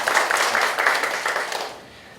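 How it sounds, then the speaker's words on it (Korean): Congregation applause in a church welcoming visiting students home from America on summer break; a steady, fairly dense round of clapping that fades out toward the end. "환영하고 박수 한번 드립니다"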